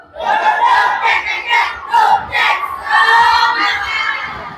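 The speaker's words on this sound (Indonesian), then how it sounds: "coba tepuk semangat baru" A class of children shouts a rhythmic clapping cheer together indoors, loud group voices rising and falling in a steady beat.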